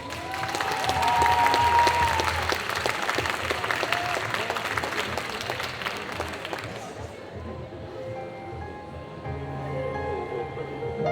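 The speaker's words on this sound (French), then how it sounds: "Un tonnerre d'applaudissements pour Anna et Elsa de Frozen 2." Audience applause and some cheering from a crowd at a cosplay show during a costume parade, dense clapping that fades out partway through.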